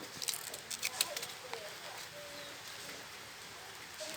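Rain falls steadily outdoors at an evening bamboo-shoot roasting, a constant soft hiss of patter with a few sharper drops early on, fairly faint and continuous throughout.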